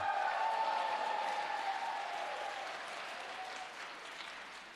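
A church audience applauds the pastor's wife, a dense sustained wash of clapping that starts full and slowly fades over several seconds, with no speech over it.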